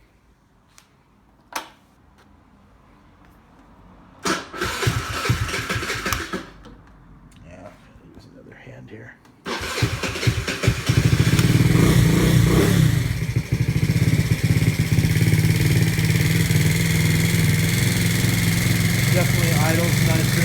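A Jinlun GY6 scooter with a 105cc big bore kit and racing exhaust cranks after a few clicks and handling noises, catches, then settles into a loud, steady, throaty idle, with someone talking briefly beforehand.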